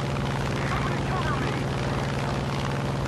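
Steady propeller engine drone of an F4U Corsair fighter in the War Thunder video game, a loud continuous buzzing roar with no letup throughout.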